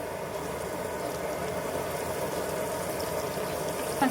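Desi chicken meat sizzles in a pot of fried onions for biryani on a stove, a steady, even hiss that continues without break and with no talking.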